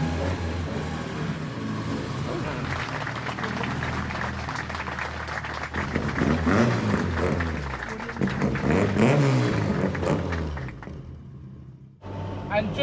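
A car named Esther drives along country roads just after a clutch repair, with a continuous engine and road rumble that swells as it accelerates, then briefly drops away near the end.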